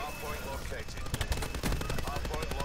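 Rapid gunfire from a shooter video game in Hardpoint mode, dense bursts of sharp shots close by and fairly loud, with a voice talking over the shooting throughout.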